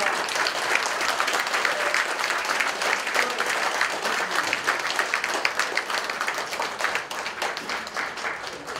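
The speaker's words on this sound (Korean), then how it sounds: "축하의 박수를 보내주십시오" At the general assembly of a Korean American federation, the audience applauds an election winner with continuous, dense clapping that holds loud throughout and eases slightly near the end.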